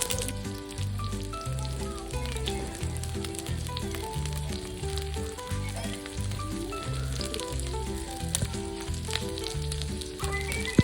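Chicken pieces pan-fry in oil with a continuous crackling sizzle, heard close under rhythmic background music with a steady bass beat.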